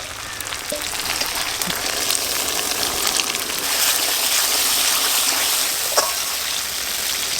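Poppy seed water rinsed off a grinding stone is poured into a hot pan of spices while cooking vegetable pulao. It makes a steady, loud gushing sizzle that runs unbroken throughout, with no talking.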